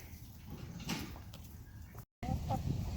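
Cochin chickens, three of them dumped over a farm fence, give soft, sparse clucks against a noisy outdoor background, with a brief break partway through.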